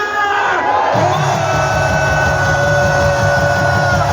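A crowd at an outdoor security-group rally raises a loud, sustained chorus of shouts and cheers that fills the scene, with a steady roar of many voices continuing throughout.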